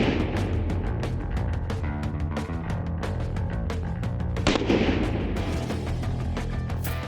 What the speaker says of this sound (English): So now we'll live fire it here.